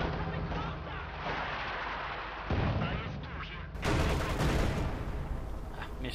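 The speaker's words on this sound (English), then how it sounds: "IS-2 firing, misses though." Heavy tank cannon fire from a Soviet IS-2 in the real-time strategy game Company of Heroes 2, with booming blasts and rumbling battle noise over a continuous layered war din, with narration running over it.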